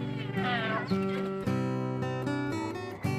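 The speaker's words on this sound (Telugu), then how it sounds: "అక్కడ పెద్ద పిల్లి ఉంది" A cat meows several times in a row, loud and close, with drawn-out, wavering cries in a home during Dasara festivities. No one speaks over it.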